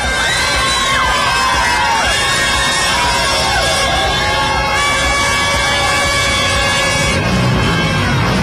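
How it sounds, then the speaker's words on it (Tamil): A large New Year's midnight crowd at Marina, Chennai, cheering and shouting continuously, with children's shrill shouts and whistles rising above a loud, dense roar. "நள்ளிரவில் ஆடிப்பாடி உற்சாகமாக வரவேற்ற மக்கள்."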